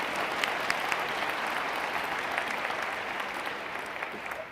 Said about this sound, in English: Well, I'm happy to applaud that, in fact.